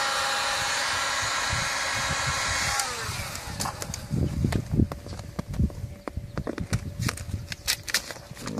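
Heat gun blowing a steady airy hiss while warming vinyl wrap on a car side mirror outdoors, cutting off after about three seconds and followed by scattered handling knocks and rustles nearby.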